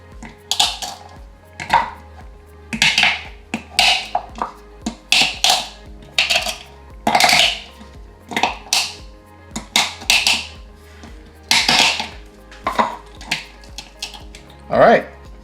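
Ingredients for Jamaican curried shrimp being crushed in a hard container: a rapid series of sharp knocks and clatters against a hard surface, close and loud, with brief pauses, under and between a person's talk.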